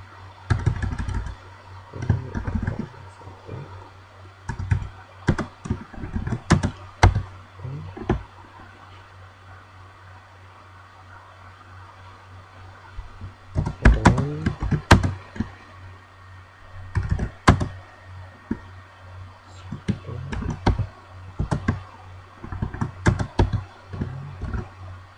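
Keys clacking as C++ code is typed on a computer keyboard, close bursts of quick irregular taps separated by a quiet pause, over a faint steady hum.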